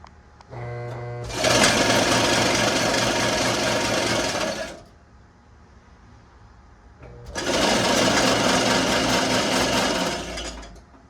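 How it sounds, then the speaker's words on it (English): A lathe spinning the reel of a 70-year-old reel mower, running in two loud, harsh, steady whirring bursts of about three seconds each, separated by a quieter pause. "with the reel set up in the lathe and spinning somewhat better"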